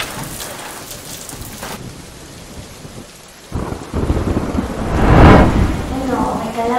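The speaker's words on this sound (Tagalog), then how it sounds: "Nakakabatrip itong ulan." Heavy rain pounds down steadily in an urban Metro Manila setting, with a loud rolling thunderclap swelling midway and rumbling on to the end; no speech is heard.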